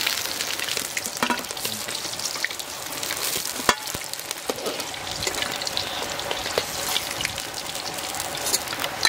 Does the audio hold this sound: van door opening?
no